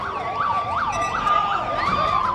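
A fire engine siren wails in a steady rising and falling cycle at close range during a joint disaster-response and firefighting drill in Taumadhi, Bhaktapur, loud and continuous without speech.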